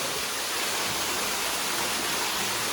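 Water from a newly drilled borewell gushes out under heavy pressure, a loud, unbroken roaring rush that holds steady throughout with no voices.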